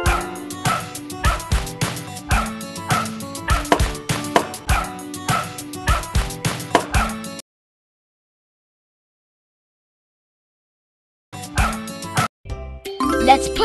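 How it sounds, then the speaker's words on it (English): A cartoon dog barks in a children's puzzle game, a quick run of rhythmic yaps over jingly game music, then silence before more chimes and barks return. "Wow! This is a dog."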